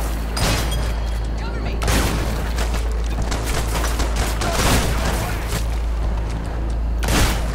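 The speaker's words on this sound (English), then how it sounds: "Your guns are shooting through the walls." Gunfire in the video game Hatred: repeated loud volleys of shots in sharp bursts across several seconds, close and heavy, with voices shouting underneath.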